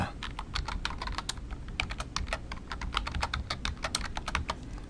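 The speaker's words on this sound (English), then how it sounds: "I'll just type in" Fingers type quickly on a computer keyboard, tapping out a dense, uneven run of crisp keystrokes at close range with no talking.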